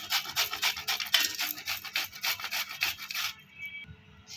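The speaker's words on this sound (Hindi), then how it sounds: "ये लौकी हम छील लिए थे, तो अब इसको कद्दूकस कर रहे हैं।" Peeled bottle gourd is grated for halwa in a series of close, rhythmic rasping strokes, steady and repeated for about three seconds before trailing off.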